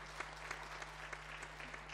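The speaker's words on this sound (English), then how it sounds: "Let us give her a round of applause." Faint audience applause at a launch event, a brief patter of scattered claps heard from a distance over a steady electrical hum.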